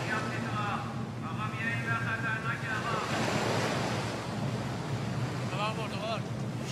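Stormy sea waves roll and wash in a continuous rushing roar with wind buffeting the microphone, while people talk over the surf at moments.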